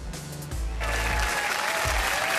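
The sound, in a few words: crowd cheering at Gran Turismo World Tour in Sydney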